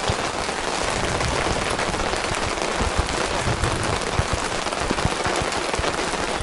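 Steady, heavy rain pours down in Australian high country near Wee Jasper, a dense, loud hiss with sharp drop-like pattering throughout and no voices.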